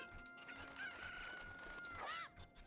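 Chickens in an N64 video game cluck and a rooster crows, with a rising, warbling crow near the end over a busy game soundtrack.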